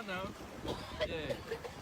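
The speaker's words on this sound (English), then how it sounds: "Yeah, it's windy. You can hear it in the mic." Steady wind rumble buffets the microphone throughout, with faint water sounds and a distant voice underneath.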